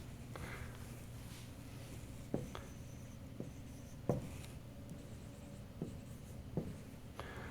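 Chalk or marker writing on a board during a university physics lecture, heard as a run of faint scratchy strokes with a few sharper taps, fairly close in a quiet room with no voices.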